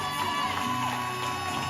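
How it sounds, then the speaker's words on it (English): At a school prize-giving ceremony, a crowd cheers and claps for the literacy awardees, the sound distant and fairly quiet with mixed shouts and whoops. "Please give all of them a rousing round of applause"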